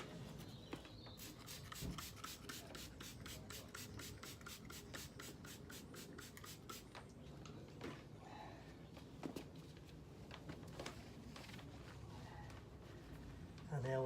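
An eraser rubs back and forth across a dirty car wheel in a rapid scrubbing rhythm, close and fairly quiet, later slowing into scattered strokes.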